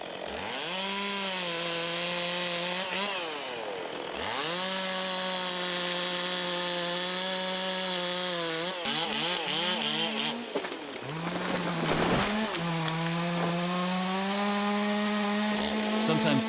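A chainsaw roars continuously for a long stretch in the woods, its engine pitch rising and dipping as it revs and bogs down while cutting felled trees to length.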